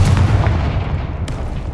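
A Confringo spell explosion in Hogwarts Legacy on PS5, heard as a loud, sustained booming rumble with a sharp crack near the start and another burst about two-thirds through, no speech over it.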